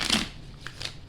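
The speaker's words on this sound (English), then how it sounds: "They're telling me to shuffle again." Tarot cards are shuffled by hand in a brief, quiet riffle of soft papery flicks, heard alone.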